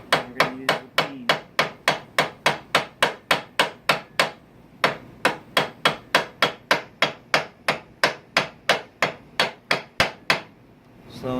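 A hammer peen strikes the pins of a chef knife bolster again and again to mushroom them, producing steady, sharp metallic taps in an even rhythm, close and loud, with a short gap partway through.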